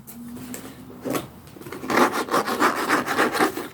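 A hardcover book is scratched in fast, rough strokes, close and fairly loud, starting softer and building into a quick rhythmic series of rasping scrapes.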